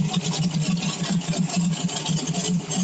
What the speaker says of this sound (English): Hear the idle coming up.